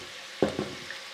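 Button mushrooms drop into a hot saucepan and give two short, quiet sizzling bursts, with a faint hiss trailing off afterwards.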